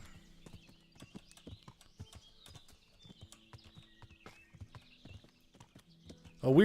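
Rhythmic clip-clop of horse hooves at a steady gallop in the medieval game Kingdom Come: Deliverance, close and continuous, with a faint neigh or snort near the end and no speech.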